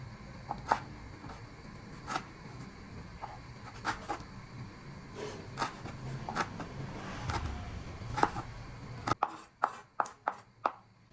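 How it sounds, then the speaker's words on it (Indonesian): A knife thinly slicing bird's eye chillies on a cutting board gives sharp, close chopping taps at irregular intervals over a low rumbling background. The cuts speed into a quick, crisp run of strokes near the end. "Cabai setannya juga aku iris tipis"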